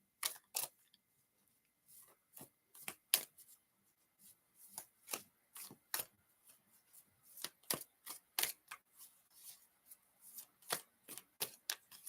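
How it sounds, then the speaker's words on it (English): Tarot cards being shuffled by hand, crisp papery riffles and snaps in quick irregular bursts, close and clear against an otherwise quiet room. "Shuffle it away. I think we're good on shuffling."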